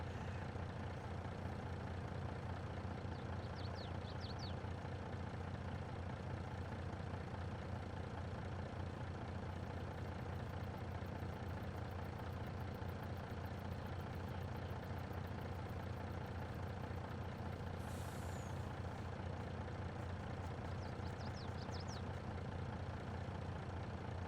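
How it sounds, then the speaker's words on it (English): A tractor engine in Farming Simulator 22 rumbles steadily and low as the machine is driven, with a faint, even drone throughout and no talking. "It's kind of crazy how in real life driving a tractor 25 mile an hour is like, yeah, this is a little fast."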